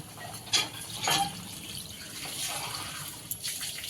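Water poured into a pan of fried vegetables for Bengali shukto, a soft splashing pour with a few brighter spattering bursts near the start, close and fairly quiet over steady kitchen background.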